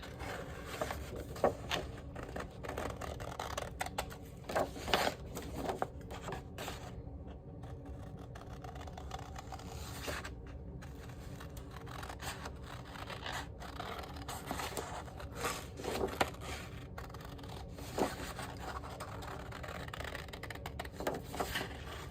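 Scissors snip around a printed candy wrapper for a Valentine's Day candy bouquet, giving soft, close, irregular cuts and paper scrapes that recur throughout with no talk.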